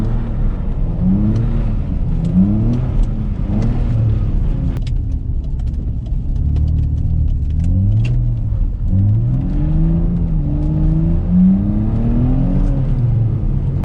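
A BMW with several exhaust leaks revs and surges while drifting in snow, the engine rising and falling in repeated waves from inside the car, a constant raspy drone with no talking.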